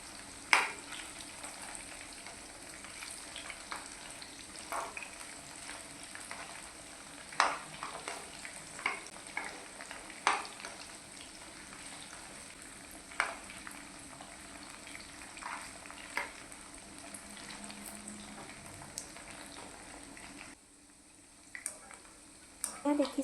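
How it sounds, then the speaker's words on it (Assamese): Fish pieces shallow-frying in a pan over a medium flame for chilli fish, a steady soft sizzle with occasional clinks and stirring scrapes, close and fairly quiet, fading out near the end. "এইখিনি মিডিয়াম ফ্লেমতে ভাজিব লাগিব, তেতিয়াহে মাছৰ ভিতৰৰ ছাইডটো ভালদৰে সিজিব।"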